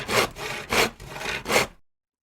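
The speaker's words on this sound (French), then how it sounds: "couper des arbres avec une scie" Three long back-and-forth strokes of a hand saw rasp through wood, close and loud with short pauses between strokes, then silence.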